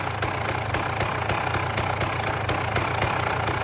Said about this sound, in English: It'll sit there and idle all day.